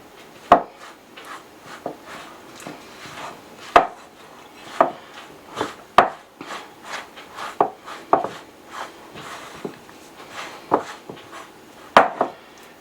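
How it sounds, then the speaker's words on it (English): A spoon mixes sticky pizza dough for a no-knead pan pizza, making a series of close, dull knocks and scrapes against the bowl in an irregular rhythm, with no talking. "So this dough is going to be sticky. We'll give it a good mix with our spoon."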